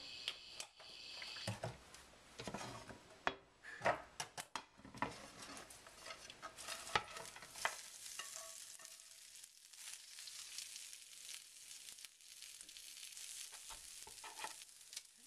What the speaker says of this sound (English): Lastly, we're going to cook the cabbage, so we're, again, 2 teaspoons of oil.